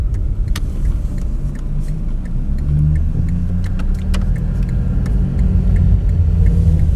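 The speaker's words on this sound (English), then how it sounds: "There are cars." Cars driving along the road past St. Peter's Catholic Church, heard from inside a car: steady loud engine and road rumble with passing vehicles and some acceleration, with no talk.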